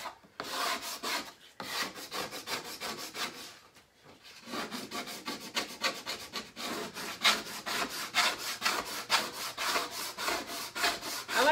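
Chalk paste being scraped off a transfer laid on a batik board, with a steady run of rapid rasping strokes, loud and close, pausing briefly near the middle before resuming.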